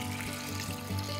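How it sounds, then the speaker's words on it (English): Water pours into a pot of sautéed rice for a one-pot vegetable biryani, a quiet, continuous splashing gush with a low steady rumble and a light sizzle from the hot pan. "I'm now going to add in around 10 cups of water."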